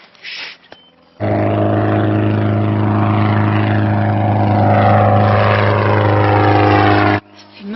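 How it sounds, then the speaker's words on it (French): A light aircraft's propeller engine roars loudly and steadily at close range with a deep, constant drone, starting abruptly after a brief quieter moment and cutting off near the end. "c'est pas une motoneige, c'est un moteur d'avion"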